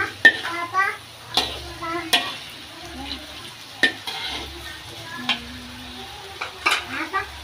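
Anchovies being stir-fried in a pan, several sharp scraping stirs and clatters of a utensil against the pan over a steady low sizzle, close and fairly quiet, with a faint voice in the background.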